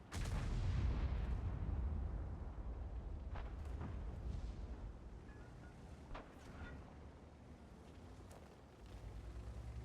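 A heavy tank cannon on the MKpz 68 (P) fires in World of Tanks, one loud close boom followed by a long rolling rumble that fades slowly, with a few faint distant thumps afterward and no talking.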